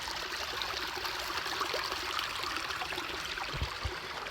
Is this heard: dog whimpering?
no